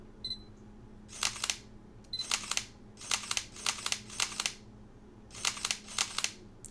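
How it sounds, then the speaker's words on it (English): Sony A7 mirrorless camera shutter firing in short bursts of two or three crisp mechanical clicks, repeated several times in close succession, alone and near against a quiet room hum. "I really don't care about the shutter sound"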